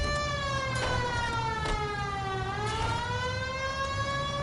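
A police car siren from the video game L.A. Noire wails with a steady rising and falling tone, loud and continuous, with no talk over it.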